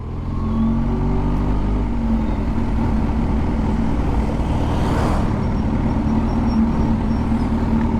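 Road traffic around a Kawasaki ZH2 motorcycle during a ride, a continuous loud rumble of engines and road noise with passing vehicles, steady throughout with a brief swell of noise midway.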